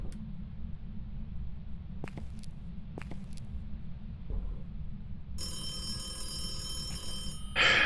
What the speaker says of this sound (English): You're ringing phones over here.